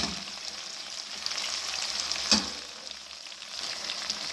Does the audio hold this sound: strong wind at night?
no